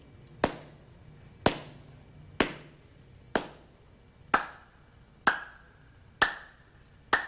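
Eight single hand claps ring out at an even, slow pace, about one per second. Each crack is crisp and close and fades quickly, and the last four have a noticeably different tone from the first four.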